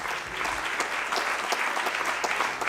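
An audience applauding at a gathering, dense steady clapping from many hands at moderate distance, sustained throughout with no voices over it.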